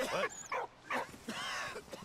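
A dog in a video game is being petted and gives several soft whines and yips in short bursts, fairly quiet within a busy game mix of sound effects.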